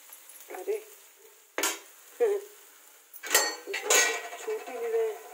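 Chopped tomatoes go into a cooking pan, heard as several sharp metallic clanks and scrapes of a utensil against the pan, with soft sizzling between the louder knocks.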